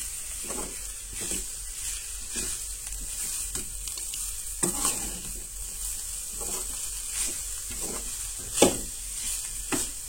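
Soya being dry-roasted in a pan for Goan crab curry, with steady sizzling and hissing broken by repeated scraping stir strokes, close and moderately loud throughout with no talk.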